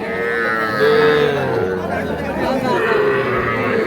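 Cattle and young calves lowing now and then amid a steady crowd murmur and chatter at a busy outdoor livestock market.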